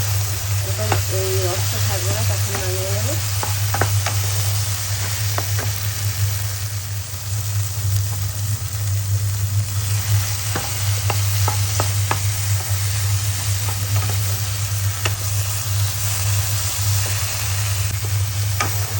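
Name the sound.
coconut being cooked and stirred in a frying pan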